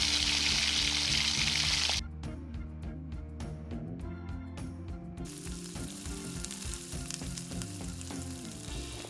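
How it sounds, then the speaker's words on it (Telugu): Ginger garlic paste is stirred into frying mutton in oil: a loud bright sizzle opens, then drops to a quieter crackle with rhythmic clanking of a spoon against the pot, close by. "ఇప్పుడు 2 టీ స్పూన్ల అల్లం వెల్లుల్లి పేస్ట్ వేసుకొని కలుపుకోండి."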